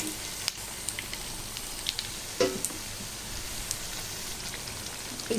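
Taro root vadas fry in hot oil with a steady crackling sizzle and scattered sharp pops, heard up close with no talk.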